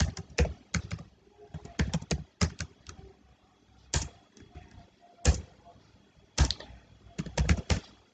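Typing a Python program on a computer keyboard: close, clicky bursts of keystrokes separated by pauses, with occasional louder single key strikes, no voice over them.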